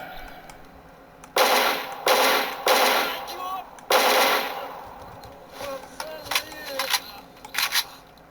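Bursts of 5.45 rifle fire in the game Anomaly, loud and close, coming in several short volleys of rapid shots with quieter rattles and clicks between them.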